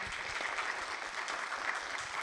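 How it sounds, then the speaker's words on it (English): Summit audience applauding the panelists: a continuous wash of many hands clapping, fairly distant and soft, holding steady throughout. "Please join me in applauding our brilliant panelists today."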